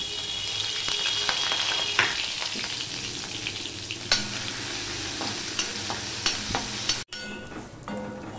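Steady crackling sizzle of crushed garlic and green chili frying in hot oil, continuous and close, with a few sharp stirring clinks and a brief pause near the end.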